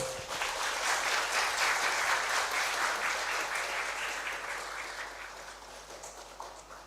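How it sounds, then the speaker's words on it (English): An audience applauds the keynote speakers at the opening of an international language-learning conference, full, steady clapping that is loudest at first and then slowly thins out and fades. "let us give a big round of applause to our keynote"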